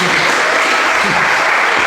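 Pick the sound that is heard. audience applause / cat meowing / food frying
audience applause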